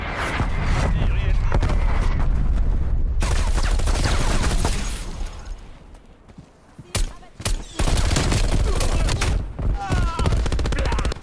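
Heavy gunfire and explosive blasts in Call of Duty: Black Ops Cold War, with dense, loud automatic fire and booming impacts, then a brief lull before sharp separate bangs return, while a voice speaks in French.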